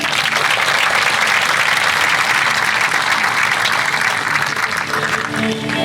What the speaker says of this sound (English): Give Laura a round of applause.